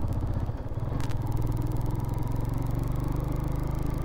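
A 150cc motorcycle carrying two riders and heavy luggage climbs a steep mountain road from Dharchula toward Gungi, its engine holding a steady, close, labouring drone throughout with no speech.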